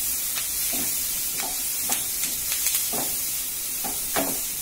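Colocasia (taro root) fries in a pan with curry leaves, giving a steady loud sizzle with hiss throughout, broken by scattered soft stirring scrapes, close up and with no voices.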